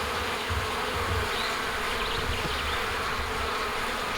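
Honey bees buzz continuously around an opened hive during a spring honey super inspection, a dense steady hum filling the whole stretch, close and even, with no talking.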